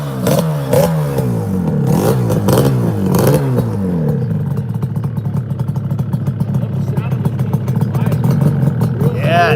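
A red, white and blue two-stroke motorcycle fitted with a DG exhaust, seen at a motorcycle concours and swap meet, revs up and down in several rising and falling sweeps, then settles into a loud, close, rattly idle. Voices talk over parts of it.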